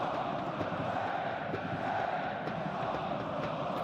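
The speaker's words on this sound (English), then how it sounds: "if the crowd were excited before, they've turned the volume up to 11 now" A football stadium crowd roars after a goal at a third-division German match between Dynamo Dresden and Erzgebirge Aue, a dense, loud, unbroken wash of cheering voices throughout.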